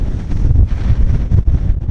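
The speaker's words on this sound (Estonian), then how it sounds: "Tuul on sealt poolt." Icy wind in Tallinn at minus 20 degrees buffets the microphone in loud, continuous rumbling gusts that rise and fall, with no voices.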